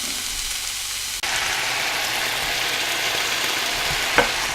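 Cauliflower rice, mushroom and asparagus cook down in a pan with a dense, continuous frying crackle that jumps louder partway through, with one short clink near the end.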